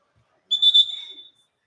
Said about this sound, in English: To stop the clock, we got a whistle and a foul called.